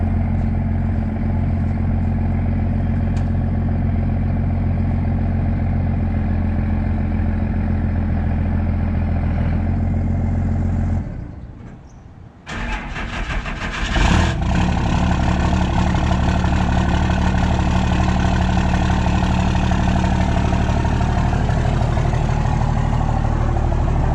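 A fire pump truck engine with a retune after an LB7 engine swap runs loud and steady. It drops out briefly, then fires back up and settles into a heavy, continuous idle, with no voices.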